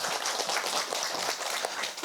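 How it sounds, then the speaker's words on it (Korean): An audience at a Buddhist psychology talk applauds, a brief dense patter of many hands clapping, steady and moderately loud with no voices over it. "여러분 박수 부탁드릴게요."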